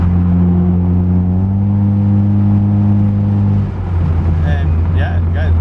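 K-swapped Honda Civic EL engine revving loud and close in third gear, a steady droning tone that holds and climbs before settling into a rougher rumble.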